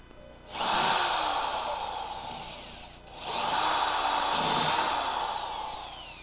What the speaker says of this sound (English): The old trusty spot weld cutter out.